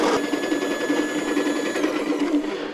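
Coffee grinder set to a medium grind, whirring beans in one continuous close, buzzing burst that runs steadily before tapering slightly at the end.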